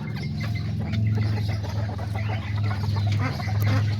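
White miniature chicken clucking steadily among other miniature chickens and roosters, a continuous close flock murmur with a low steady background hum throughout.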